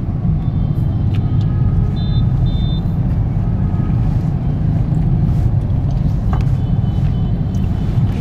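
A traffic jam on highway 32 through Hanoi's Nam and Bắc Từ Liêm districts, with buses stopped at a stop, gives a loud, steady rumble of engines and road noise throughout, broken only by a few faint high beeps.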